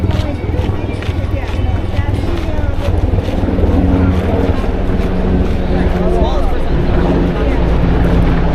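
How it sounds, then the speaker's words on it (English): Steady low rumbling drone of a military helicopter passing overhead in Manhattan, New York City, continuous and fairly loud throughout, with people talking underneath. "That military helicopter again."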